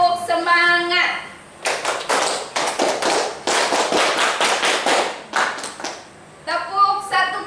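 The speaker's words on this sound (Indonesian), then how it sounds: "Tepuk 1 kali. Tepuk 2 kali. Tepuk 3 kali." Children clap in rhythm during a classroom clapping game, sharp hand claps in fast bursts and groups filling the middle, with a teacher's voice calling out before and after.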